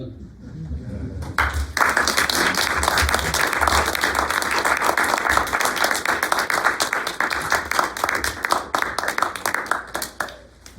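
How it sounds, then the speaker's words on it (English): After a brief quiet moment, an audience breaks into sustained applause for poets at a reading, many hands clapping loudly and steadily for several seconds before thinning into scattered final claps. "One more round of applause for all three"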